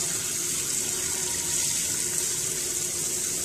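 Steady running tap water pouring into a sink while rinsing rice, a continuous loud rushing splash with no voices.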